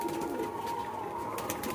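Pigeons cooing on a pigeon farm, a soft continuous murmur of several birds close by with faint rustling, no talking.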